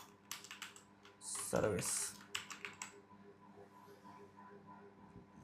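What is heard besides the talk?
typing on a computer keyboard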